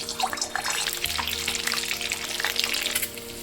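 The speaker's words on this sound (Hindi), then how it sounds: "जब तक हमारे एग फ्राई होते हैं" Pierced boiled eggs fry in hot oil for egg curry, a dense continuous crackling sizzle heard up close with no other sounds.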